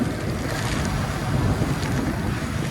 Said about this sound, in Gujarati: એટલે પવને ફૂલ છે અત્યારે